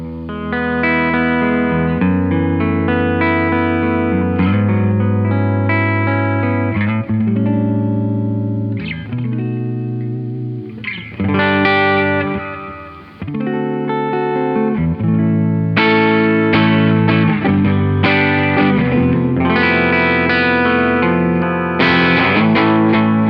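Distorted electric guitar through a Marshall Studio Classic SC20H amp set to its 20 watt high setting, loud sustained chords and riffs with a brief drop in the middle.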